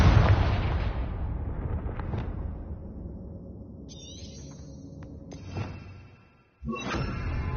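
A Confringo fire spell blasts off in Hogwarts Legacy, a loud burst with a rolling decay that fades over several seconds, then a short magical chime and a fresh whoosh at the end.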